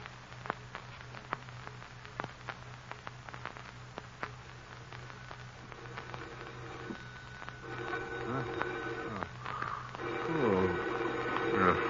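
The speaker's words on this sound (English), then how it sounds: "Who could be calling at this hour? Now, where's that phone?" Telephone dialing and ringing in an old-time radio drama: a string of sharp clicks at an irregular pace, followed by tonal ringing bursts over a low hum, fairly quiet and without speech.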